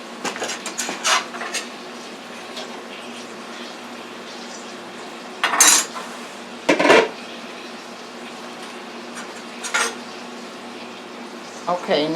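Salmon and onions in a frying pan for a salmon stew, giving a steady soft sizzle with intermittent clinks and scrapes of a utensil against the pan, fairly close and at moderate volume.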